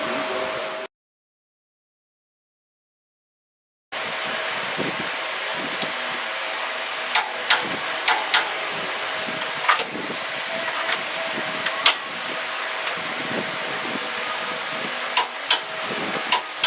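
Click-type torque wrench set to 70 foot-pounds, tightening the upper control arm bolts on a Chevrolet C-10 truck, gives several sharp, isolated clicks scattered over a steady workshop hum.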